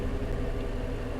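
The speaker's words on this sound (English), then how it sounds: "This engine is not exactly quiet." A truck engine in American Truck Simulator runs steadily with a low, continuous rumble, loud and close, with no speech over it.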